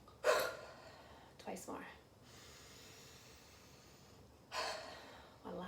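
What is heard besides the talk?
strong exhales during a shoulder-drop exercise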